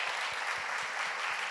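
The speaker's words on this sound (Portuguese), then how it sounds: "Aplauda o Senhor bem forte, bem forte" Congregation applauding in a Portuguese-language church service, a dense steady wash of clapping with some rhythmic beats, moderately loud throughout with no talk.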